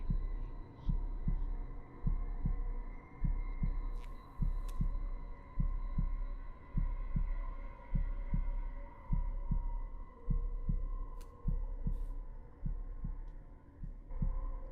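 Steady heartbeat effect in the horror game Demonologist, a regular low double-thump repeating through the whole stretch over a constant ambient hum, with faint occasional clicks and no talking.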